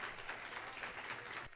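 A church congregation claps during a missions service, a fairly faint, steady wash of applause that runs on and then drops off abruptly near the end.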